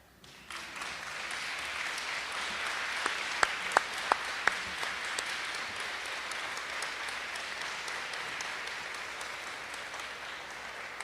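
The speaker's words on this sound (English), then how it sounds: "I feel like the parents clapped louder." An audience applauds steadily at a senior academic awards ceremony, a sustained wash of clapping in a hall, with a few sharp, distinct claps standing out near the middle.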